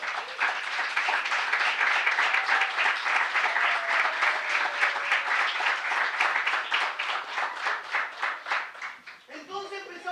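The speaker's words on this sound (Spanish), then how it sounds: "¿Cuántos le dan un aplauso al Señor?" A church congregation applauds in a lively, sustained burst of many hands clapping that holds steady for most of the clip and thins out near the end as a voice begins to speak.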